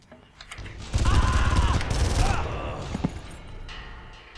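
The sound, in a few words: rapid gunfire from a weapon in the video game Far Cry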